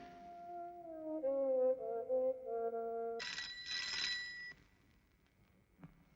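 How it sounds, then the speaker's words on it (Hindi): Old telephone bell ringing in a Hindi film scene: a steady, loud electronic trill lasting about three seconds, followed by a brighter, higher ring that breaks off abruptly, then near-silence with a single faint click. "जा घंटी बज रही है।"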